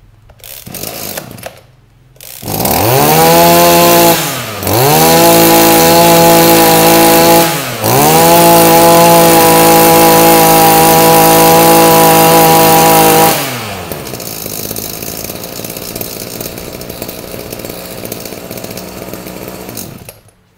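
A Japanese J7 brush cutter with a 32–33 mm cylinder is pull-started, its two-stroke engine catching loud and close, then revving in high whining bursts before dropping back to a steady idle.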